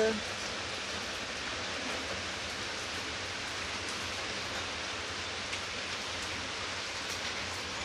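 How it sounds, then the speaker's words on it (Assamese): Light rain falls steadily as an even, continuous hiss with no breaks, the weather easing after a heavy morning downpour, with no voices over it. "এতিয়া অলপ এৰিছে, লাহে লাহে দি আছে"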